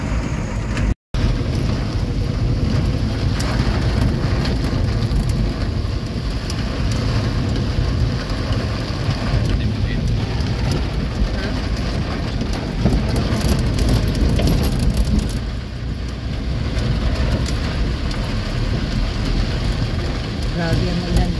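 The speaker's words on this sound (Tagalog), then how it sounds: "Grabe ang ulan dito sa Cebu." Heavy rain in Cebu near SM City, a steady dense hiss of downpour with traffic noise mixed in, continuous and fairly loud throughout with a brief cut near the start.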